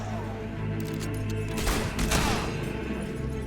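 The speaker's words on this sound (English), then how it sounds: "I cannot believe I shot a barrel instead of a person there." A video game gunshot strikes a barrel, producing sharp cracking impacts and a metallic smash amid dense overlapping gunfire and explosive noise that stays loud throughout.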